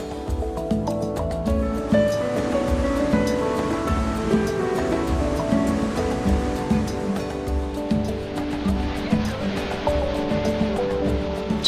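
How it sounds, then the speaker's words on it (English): Victoria Falls on the Zambezi River thunders into its gorge as a dense, unbroken roar of falling water. It holds steady and loud throughout, with no voices heard. "cascade of fresh water from the Zambezi River falling into a beautiful gorge"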